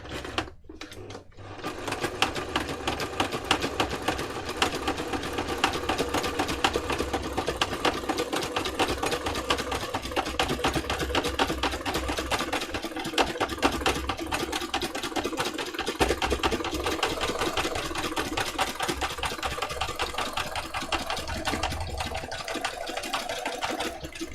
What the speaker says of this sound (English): that's not the best bit of sewing in the world